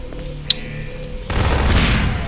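Gunfire in the video game Garry's Mod in the Paranoia game mode: a brief sharp shot, then a sudden dense burst of rapid firing that fills the rest of the moment.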